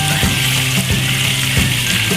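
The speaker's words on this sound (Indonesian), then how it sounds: "Ikannya kita goreng lembab ya Bunda." Tuna pieces frying in hot oil for a Minang-style balado dish, giving a steady, close sizzle with soft crackles and a few clinks of stirring throughout.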